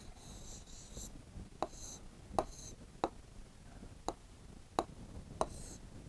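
A pen scratches out an Urdu word on paper in short, faint strokes, with soft taps as the pen meets the page.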